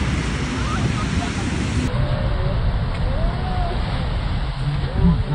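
Ocean waves crash on a shore in Iceland as a constant, loud roar of surf, with a slight swell near the end.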